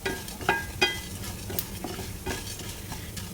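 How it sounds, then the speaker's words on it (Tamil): Black pepper and cumin dry-roasting in a pan over a low flame for sambar rice, with a soft continuous sizzle and several spoon stirs and scrapes against the pan, close and clear. "இப்போது மிளகு சீரகம் ரெண்டு சேர்த்துட்றேன் இது வந்து சின்ன தீயில் வச்சு இது நிதானமாக நீங்கள் வறுத்தா தான் நல்லா வரும்"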